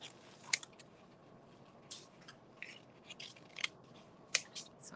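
Scissors snip paper strips into small triangles for a weaving craft, giving close, quiet, crisp cuts spaced irregularly a few times over a soft rustling background.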